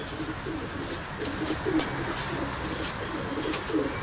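Pigeons coo softly in repeated low, throaty phrases against steady outdoor background noise, with no voices.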